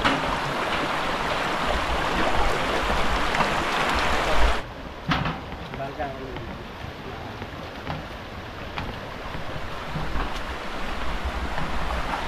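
Rushing water of a flooded creek roars steadily, a broad turbulent wash, briefly dropping as wind buffets the microphone before the flow continues.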